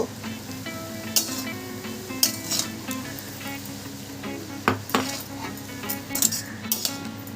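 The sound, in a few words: stirring radish greens with turmeric and salt in a pan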